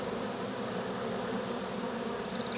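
Honeybees buzz steadily around an open hive during beekeeping work, a dense, continuous drone of many insects close by with no talking.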